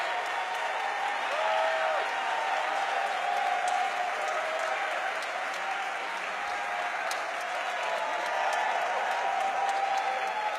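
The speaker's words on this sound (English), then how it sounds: "Standing ovation indeed from the crowd as they welcome Ad Finum." A large esports crowd at a Dota 2 Major main stage gives a sustained standing ovation, with dense, steady applause and cheering filling the hall evenly for the whole stretch.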